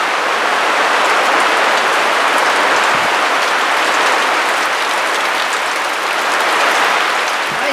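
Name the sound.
hard rain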